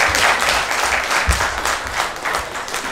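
Audience applause at a municipal council meeting: steady, dense clapping from a room full of people, fairly loud and continuous across the whole stretch with no talking over it.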